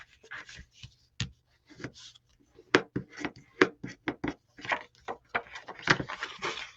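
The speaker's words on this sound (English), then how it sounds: "Two score lines in, just fold it towards the center." Scored cardstock being creased and folded toward the center, producing a run of irregular papery taps, rubs and crisp creasing snaps up close in a quiet room.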